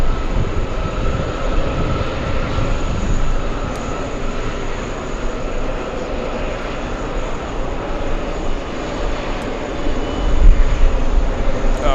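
A Delta Airlines jet from Lisbon takes off at JFK, its deep continuous engine rumble filling the scene and swelling near the end, with a couple of sharp clicks standing out.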